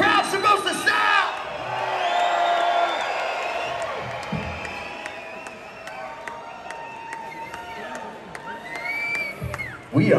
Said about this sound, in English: That's the way a crowd's supposed to sound.